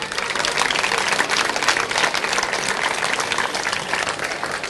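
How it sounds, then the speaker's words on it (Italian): A crowd applauds continuously at an evening Estate Sport event in San Vendemiano, producing a dense, even wash of clapping that holds steady throughout. "Quindi per Franco Vanzella vorrei veramente un applauso sentito"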